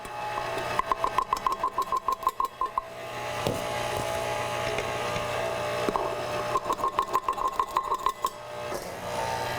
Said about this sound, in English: I'm going to turn the speed up a little bit on the mixer